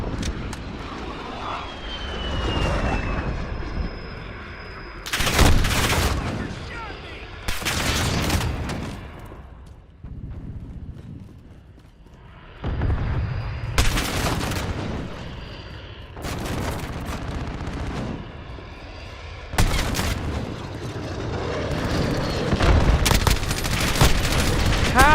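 An F-16 jet attacks in a video game with repeated bursts of rapid gunfire and booming impacts, loud and close, over a roaring jet engine and background rumble, the volleys coming in irregular clusters.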